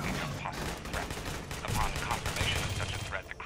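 Pistol fire in the shooter game Aliens: Colonial Marines, a string of sharp reports running through a dense, busy game mix of effects and talk.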